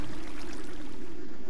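Steady water flowing in the video game Attack of the B-Team, a continuous close rushing pour with an even, unbroken level throughout.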